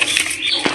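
A pigeon flaps its wings in flight, a short, close flutter of wingbeats with a single firmer flap near the end.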